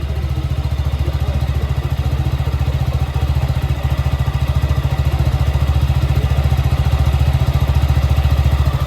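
A Suzuki Gixxer SF 150 motorcycle engine idling steadily, with a loud, even, rapid low thumping pulse held throughout and no voices.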